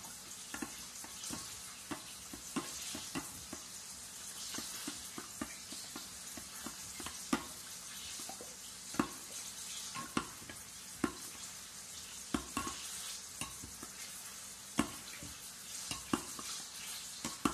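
An onion mix sizzles steadily in a pot as it is stirred, a continuous soft frying hiss broken by regular light scraping and tapping from the stirring, fairly quiet and close.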